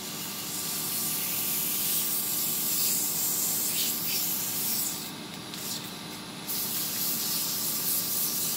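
Sandpaper held against a wooden finial spinning on a lathe, giving a steady, close hissing rasp with a slight dip near the end before the continuous friction returns.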